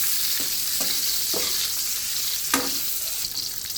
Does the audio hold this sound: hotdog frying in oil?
yes